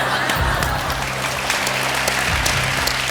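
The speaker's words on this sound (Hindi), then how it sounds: "तालियां" Studio audience applause on a Hindi television game show, a loud, continuous burst of clapping over a steady low hum of the studio, with no clear talk over it.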